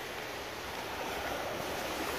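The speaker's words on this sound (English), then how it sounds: "see how big the waves are?" Big ocean waves breaking at a resort beach, a continuous loud roar of surf and rushing water with wind noise on the microphone, close by and without pauses.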